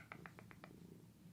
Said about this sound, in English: I'm sorry if you can hear purring.